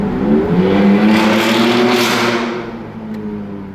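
A loud engine roars close by and rushes past, its droning pitch sliding lower as the vehicle pulls away.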